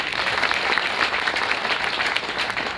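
Steady, dense applause from an audience at a marketing meeting, loud and continuous for a few seconds with no break.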